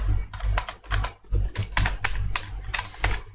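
Rapid, uneven keystrokes of someone typing code on a computer keyboard, close and clear with short bursts and brief pauses, no talking.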